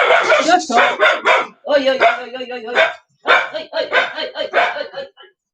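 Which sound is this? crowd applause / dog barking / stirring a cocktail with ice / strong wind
dog barking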